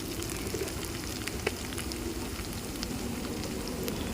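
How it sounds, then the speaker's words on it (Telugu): Ginger garlic paste sizzling in a pan for a meal maker curry, a steady, fairly faint crackling fry with scattered pops throughout, no voices. "ఒక చెంచా అల్లం వెల్లిగడ్డ వేసుకుంటున్నా."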